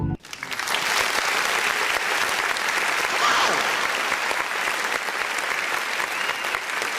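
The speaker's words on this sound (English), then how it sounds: "let's give a round of applause for Cliff Robinson" An audience applauds Cliff Robinson with a dense, steady wall of clapping. It stays loud and even for several seconds with no pause.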